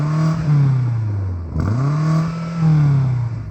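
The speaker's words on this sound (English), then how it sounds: "Can you rev up the BMW," A BMW M5 CS engine is revved twice in quick succession, each loud, rising surge climbing to the soft limiter and holding before dropping back, with a brief dip in between and no talking.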